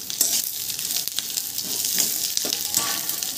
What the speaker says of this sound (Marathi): आता हे खोबरं भाजून घेऊया. आणि ह्याच्यात जे लसूण आहे ना ते पण थोडेसे भाजून घेऊया.